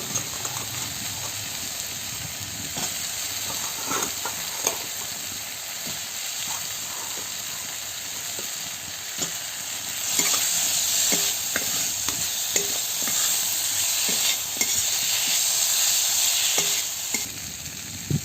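Potatoes frying in spiced oil for a potato-prawn dish, a dense continuous sizzle that swells louder partway through, with repeated stirring knocks against the pan, close up and without speech.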